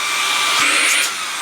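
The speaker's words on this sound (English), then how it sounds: "we have a sort of blower device, which is pretty powerful." A HoTo air duster blows hard through its nozzle attachment, a loud, close, steady whoosh of rushing air with a high whine that eases slightly near the end.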